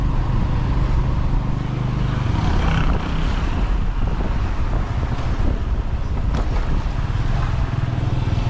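Strong coastal wind near Mombasa during Cyclone Hidayah, a loud, constant roar buffeting the microphone with rumbling low gusts throughout and no speech.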